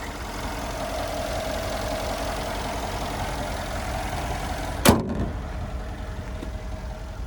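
The 5.5 liter twin-turbo V8 of a 2015 Mercedes-Benz G63 idles with a steady low rumble, broken once by a sharp knock or thud near the end.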